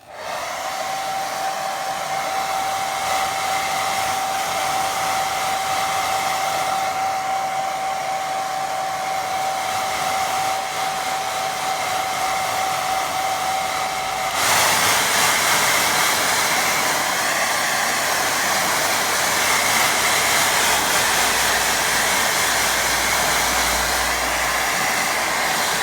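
A hair dryer blows steadily and loudly over a watercolour ocean painting, its whine shifting partway through as the setting or angle changes, running alone without speech.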